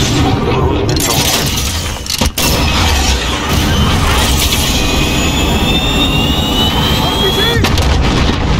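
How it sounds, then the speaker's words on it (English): A cruise missile strike in the Call of Duty video game produces a loud, continuous roar with a rising, whistling whine layered over rumbling blasts throughout. "Cruise missile ready. I marked the target. Hit them."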